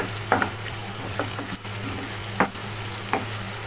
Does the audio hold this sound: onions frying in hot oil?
yes